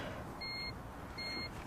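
A car's electrical power comes on after hot-wiring, with two short high electronic beeps about a second apart over a steady background hum.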